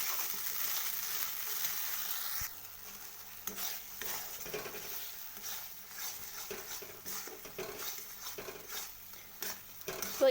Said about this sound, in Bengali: তো এটা ভালো করে ভেজে নিতে হবে